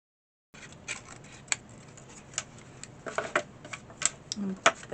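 Scissors trimming around a dried vintage-style paper craft piece, close sparse snips and paper rustles at an irregular pace, a little busier toward the end.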